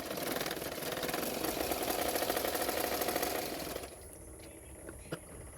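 A sewing machine runs steadily while stitching a padded blouse, a continuous close mechanical whir that stops partway through, leaving a quieter room with a small click.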